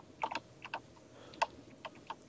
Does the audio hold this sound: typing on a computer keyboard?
yes